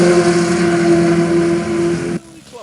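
A race car's engine drones steadily as it rounds the high-banked oval at Fairview during an Oakley Motorsports IT Cup weekend, loud and sustained before cutting off abruptly near the end.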